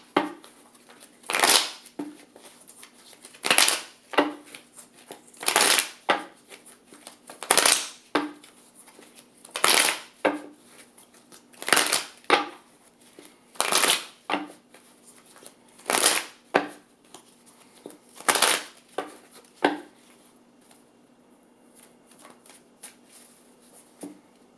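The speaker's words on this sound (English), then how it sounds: "I'm going to shuffle my oracle cards" Oracle cards being shuffled by hand in repeated crisp riffling bursts, roughly every two seconds, close and clear with quiet pauses between and no talking.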